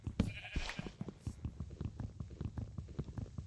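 A sheep bleats in Minecraft, a short nasal call near the start over a steady run of soft, rhythmic thumping steps.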